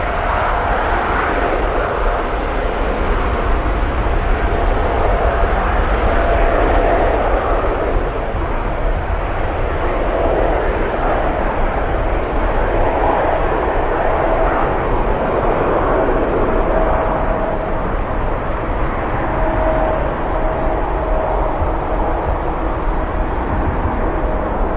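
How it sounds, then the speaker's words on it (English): A TUI Boeing 787 Dreamliner in Orient and Ruby livery rolls for departure at Manchester Airport, a loud, steady jet engine roar that holds throughout, heard from the runway side with no talking. "TUI Dreamliner rolls out."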